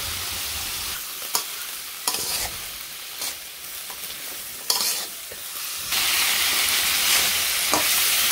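Fish bones and trimmings hit a hot pan and fry with a steady sizzle, broken by sharp scrapes and clacks of stirring, which swell into a louder, fuller hiss toward the end.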